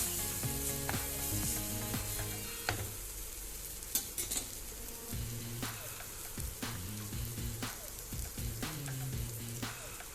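Egg fried rice with chili sauce and tomato sauce is stirred in a hot pan, with repeated scraping strokes of the utensil over a soft, steady sizzle, close and fairly quiet.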